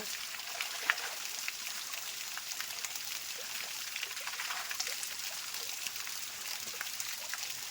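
Spring water flowing down over the rocks of a hillside at a temple, a steady hissing rush with scattered tiny splashes, continuous and even at a moderate distance.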